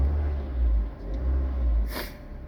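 A 2006 Ford Fiesta engine idles with a steady, low, even rumble close by, alone with no talk.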